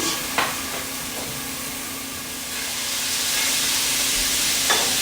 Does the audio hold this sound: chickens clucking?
no